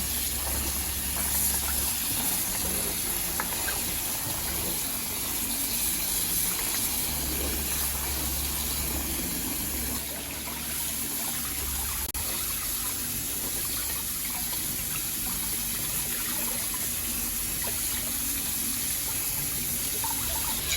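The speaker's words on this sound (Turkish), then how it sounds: "Evet fasulyelerini yıkıyor" Tap water runs steadily over beans being washed in a home kitchen while cooking a regional Turkish workplace meal, a continuous close hiss of flowing water lasting throughout with low rumbling underneath.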